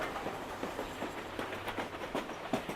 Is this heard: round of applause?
no